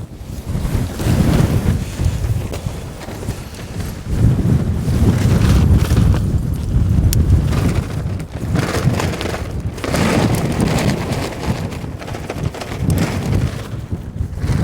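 Strong, cold wind gusts at an exposed wild camp, roaring and buffeting hard against the microphone in surging waves. It is loud and continuous with no voices.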